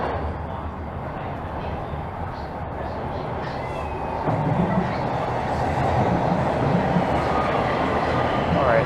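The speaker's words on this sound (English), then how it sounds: "not that you can hear it over the side of that train rumbling in" A Toronto subway train rumbles into an underground station, a dense low roar and rail clatter that swells louder partway through and fills the platform.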